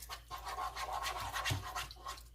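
A whisk beating milk and eggs in a bowl for a breakfast lasagna, with rapid rhythmic scraping strokes, close and steady throughout.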